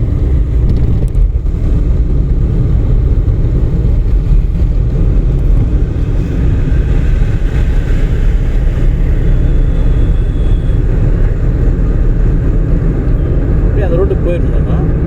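A driving-school car's engine drones loud and constant throughout while overtaking on the road, under steady wind and road rumble, with a voice speaking over it.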